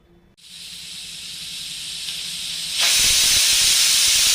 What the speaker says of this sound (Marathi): आता आपण कुकरच्या दोन शिट्या करून घेऊया